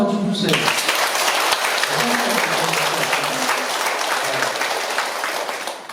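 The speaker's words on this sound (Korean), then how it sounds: "박수 한번 좀 주세요" A church congregation at a Catholic mass breaks into sustained, dense applause right after a priest's spoken line. The clapping stays steady and loud for several seconds before easing slightly.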